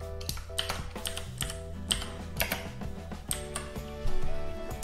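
Rapid typing on a computer keyboard while entering text for a Polycomp Graphic Commander display page: dense, irregular clicking keystrokes over a continuous tonal background.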